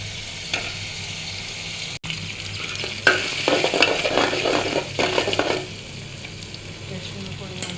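Ginger garlic paste with turmeric, chili and salt frying in a cooking pot, a steady close hiss broken by bursts of scraping and stirring in the middle stretch.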